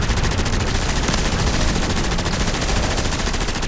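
Dense, continuous automatic gunfire pours at a giant scaled worm in the Modern Warfare Zombies video game, loud and unbroken for the whole stretch with no pauses between bursts.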